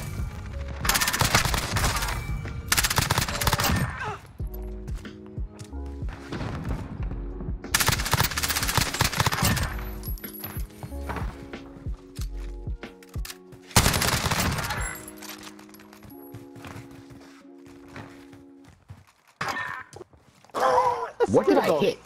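Rapid bursts of automatic gunfire from a shooter video game, with repeated loud volleys and single shots in close succession, some separated by brief pauses.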